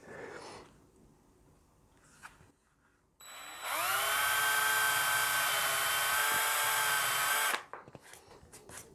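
A powered hand drill whines up to speed and runs steadily for several seconds drilling holes in a scratch-built guitar, then cuts off, with quiet clatter before and after.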